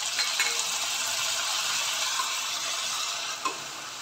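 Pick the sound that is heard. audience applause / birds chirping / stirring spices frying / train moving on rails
stirring spices frying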